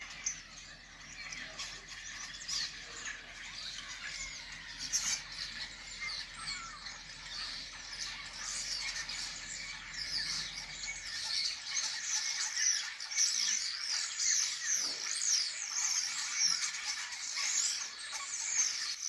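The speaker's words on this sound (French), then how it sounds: "Ce sont des étourneaux apparemment." Starlings call at night as a dense outdoor chorus of squeaky chirps and whistles, moderately loud and continuous, growing busier in the second half over a faint low background hum.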